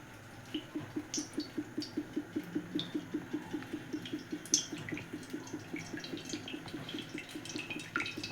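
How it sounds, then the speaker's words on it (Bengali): White cooking oil glugging out of a bottle into a wok gives a fast, even run of soft rhythmic gurgles over several seconds, faint and close. "এবার আমি মালপো ভাজার জন্য কড়াইতে তেল ঢালছি"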